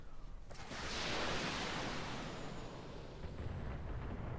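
Mech weapons fire in BattleTech as one broad roaring blast that swells within a second and then slowly decays into a rumbling wash, heard alone without talk.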